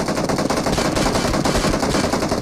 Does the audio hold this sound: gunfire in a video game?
yes